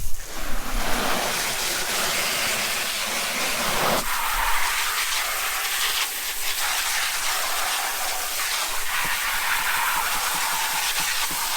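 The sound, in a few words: hosing down a yard shelf with water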